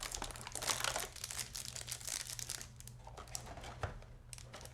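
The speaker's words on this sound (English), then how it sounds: "let's just unwrap this guy here" Crinkly plastic wrapping being peeled and crumpled off a Kemei KM5027 hair trimmer, a continuous close rustle with sharper crackles near the start and a steady low hum beneath.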